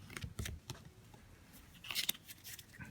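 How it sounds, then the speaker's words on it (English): A deck of tarot cards is shuffled by hand, producing several brief crisp riffling bursts and soft card flutters, close and fairly quiet, with a denser flurry of snapping cards near the end. "Okay, so I'm shuffling the cards."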